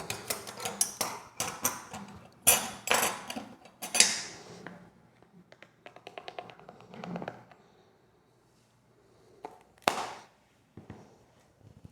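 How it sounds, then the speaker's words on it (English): Quick clinking and scraping of a fork stirring salt and pepper together in a small dish, a rapid run of sharp taps and clicks, then a pause and a few more, close and alone without talk. "I just mix it all together with a fork"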